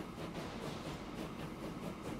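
In the Transport Fever 2 rail network, trains rumble past in a continuous low roar with a faint repeating clack of wheels on rail joints, steady and unbroken, with no voices.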